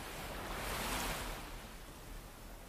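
Vast open ocean waves surge in a continuous broad wash of surf, swelling louder in the middle and easing off, with a low wind-like rumble and no voices.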